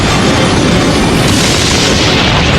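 A tanker explosion in Gaza: a loud, continuous broadband roar of blast and rumble fills the whole stretch with no voices.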